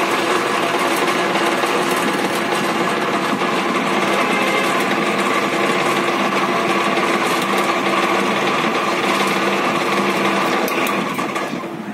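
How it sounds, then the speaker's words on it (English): An electric wire drawing machine for jewellery work draws copper wire with a loud, steady mechanical whir and rattle that runs unbroken throughout, easing slightly at the end. "Now, the wire has been drawn from completely over here"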